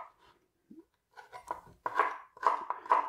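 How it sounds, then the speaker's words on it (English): A knife chops a pear into small pieces on a board, giving a handful of sharp, close, irregular thuds with short pauses between them. "And then just chop it down nice and small"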